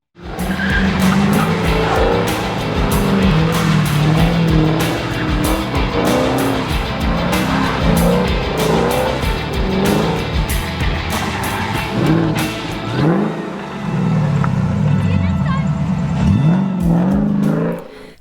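A car pulls away after an oil change, engine revving hard with screeching tire squeals and skids, loud and continuous before the tone shifts as it drives off.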